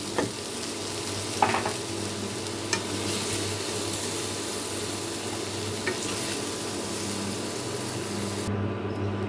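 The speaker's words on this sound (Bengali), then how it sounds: "এঁচড়টা আমার ভাজা হয়ে গেছে দেখুন ঠিক একটু করে আমি ভেজে নিয়েছি এঁচড়টাকে" Young jackfruit frying in a pan sizzles steadily and up close, with faint stirring scrapes and a couple of light knocks against the pan.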